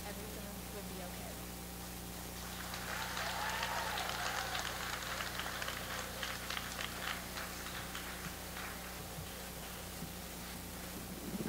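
Audience applause at a school spoken word poetry competition for grades 9 and 10, a broad wash of clapping that swells after a couple of seconds and holds steady over a low constant hum, with voices faintly mixed in.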